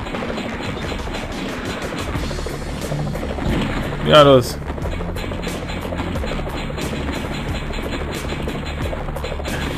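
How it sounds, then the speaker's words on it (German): Helicopter in the Armio flash video game, a steady rapid rotor chop with game effects and a brief rising sweep midway, under German commentary. "Sieht schon wie ein Hubschrauber aus."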